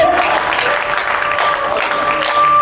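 Crowd at a patriotic evening event in Udaipur claps loudly and continuously, a dense wash of hands with a faint tonal hum underneath and no clear speech.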